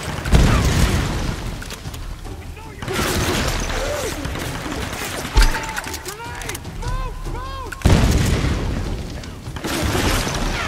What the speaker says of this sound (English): And she has a fucking grenade.